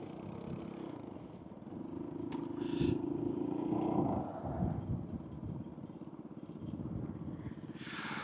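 Scooter tyres rolling over loose gravel laid on tarmac, giving a steady gritty rumble with a low engine drone throughout, swelling briefly in the middle, with no talking.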